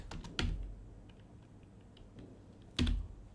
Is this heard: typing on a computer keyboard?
yes